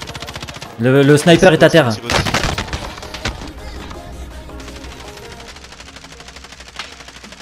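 Loud bursts of rapid gunfire crackle through a Call of Duty Warzone match, with a dense volley early on and scattered shots afterward, while players talk in French over the action.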